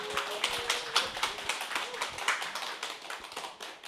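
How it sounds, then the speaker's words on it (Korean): Audience applause at a Korean business presentation, a steady wash of many hands clapping at moderate volume from a crowd in a hall, continuous for several seconds and fading slightly at the end, with no talk over it. "큰 박수 부탁드리겠습니다"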